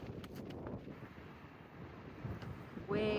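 Breeze on a mountaintop buffets the microphone in a steady, rough rush that swells near the end, with a few faint clicks early on.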